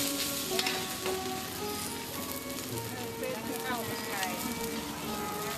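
Thai street-vendor pad siew noodles sizzle loudly in a wok, with scraping stirs from a stainless steel wok turner, a dense continuous frying hiss close by.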